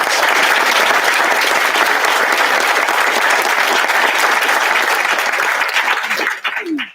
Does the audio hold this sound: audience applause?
yes